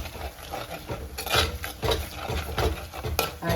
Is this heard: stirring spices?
yes